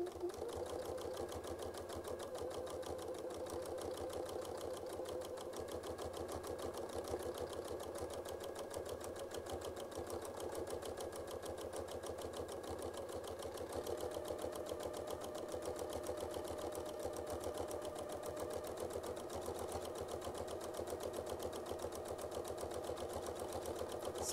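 A sewing machine stitches through a quilt along a seam, a steady rapid mechanical whir and clatter running continuously and close without pause, with no talking.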